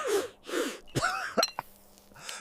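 A young man coughs harshly in a rapid series of close, loud hacks and throat clears after trying to smoke a cigarette, with breathy gasps between them.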